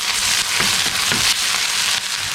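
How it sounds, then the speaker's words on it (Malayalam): Chopped shallots and ginger garlic paste hit hot coconut oil, giving a loud, steady, close sizzle with crackling pops throughout. "അപ്പം ഞാൻ അതിലേക്ക് ഒരു പിടി ചെറിയുള്ളി അരിഞ്ഞ് ഇട്ട് കൊടുക്കാണ്."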